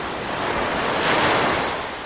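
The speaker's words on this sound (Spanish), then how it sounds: "vuelve al sonido de las olas." Ocean waves wash in as a loud, continuous surf roar that swells gently midway and then eases, with some wind rushing over the microphone.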